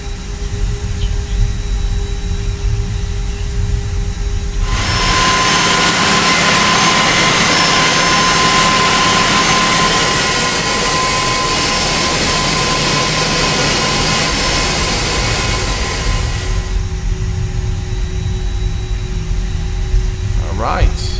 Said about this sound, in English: we're good to taxi now to runway 22 right